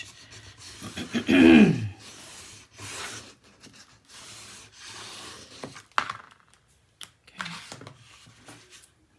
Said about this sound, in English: Give this a good burnish.